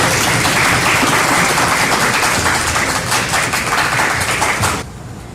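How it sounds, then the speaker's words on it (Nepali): A church congregation applauds to welcome a pastor, loud dense clapping filling the room for about five seconds before cutting off abruptly. "हामी ठुलो ताली दिएर उहाँलाई स्वागत गर्नेछौँ"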